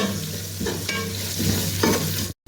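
Onions and whole spices fry in a pot with a steady, loud sizzle, broken by a few scraping stirs of a spoon against the metal, alone without voices, ending abruptly.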